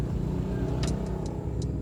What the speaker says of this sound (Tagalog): Maraming mga sasakyan dito dahil nandito ako sa malapit sa highway.